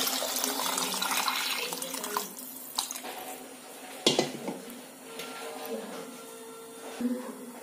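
Water poured from a vessel into spiced rice for pulao in a pressure cooker, a steady splashing pour with faint clinks of pots and utensils in a home kitchen.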